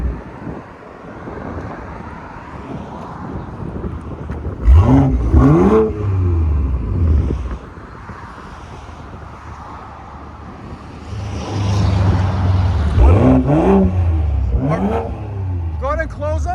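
A 2019 BMW M340i 3.0L with its cat-back exhaust valves open revs twice, sharp rising engine bursts over wind noise, with people talking in between.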